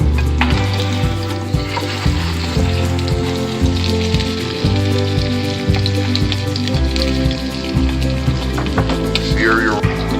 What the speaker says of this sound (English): Let's sear your roast first.